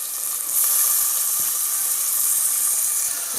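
Tomato drops into a pan of oil with browned onion and curry leaves for a pomfret curry, giving a steady, close frying hiss that rises slightly after a moment and then holds even.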